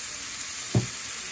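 Seasoned meat searing on a griddle for a chopped cheese sandwich gives a steady, soft sizzling hiss, interrupted once by a brief low knock.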